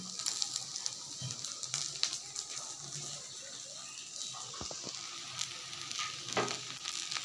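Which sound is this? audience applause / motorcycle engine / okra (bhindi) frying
okra (bhindi) frying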